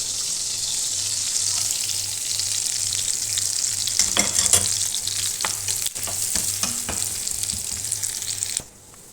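Finely chopped onion frying in oil and a spoon of butter in a pan, a steady bright sizzle with clicks of stirring in the middle, cutting off abruptly at the end.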